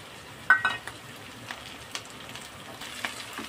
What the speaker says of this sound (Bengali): কড়ার মধ্যে দিয়ে ভালো করে আমি নেড়ে ছেড়ে মাছটা একটু ভাজা ভাজা করে নেব